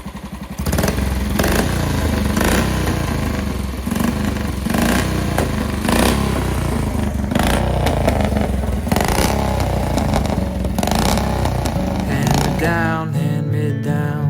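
Velocette 350 single-cylinder motorcycle engine running after cam timing work, a busy mechanical clatter and throb held steady and close for most of the stretch before cutting off abruptly near the end.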